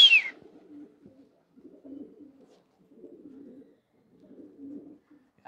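Soft, low coos from homing pigeons released from their loft repeat in short murmuring bursts with pauses between, fairly quiet, after a brief high chirp at the start.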